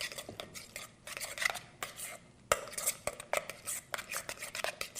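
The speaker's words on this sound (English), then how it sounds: "Mix those together." Tzatziki ingredients, garlic, salt, pepper and lemon juice, are mixed in a bowl, producing close, irregular clinks and scrapes of utensil against the bowl with short pauses and no speech.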